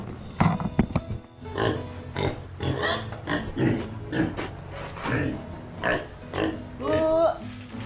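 Pigs grunting and oinking at feeding time on a backyard farm, a close, uneven series of grunts and squeals mixed with people talking.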